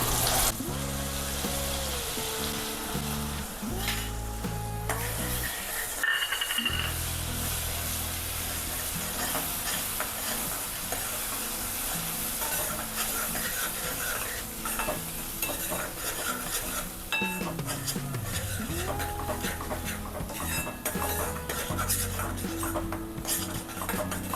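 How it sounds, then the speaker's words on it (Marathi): A masala paste for Maharashtrian stuffed brinjal sautés in oil in a pan, with a continuous sizzle under repeated stirring and scraping of a utensil against the pan, and no talk. "आता या वाटणाला तेल सुटेपर्यंत छान परतून घ्यायचं"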